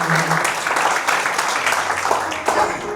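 Church congregation applauding together during a Spanish-language worship service, steady clapping close up and sustained for the whole moment with a few voices mixed in.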